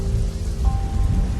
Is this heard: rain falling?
yes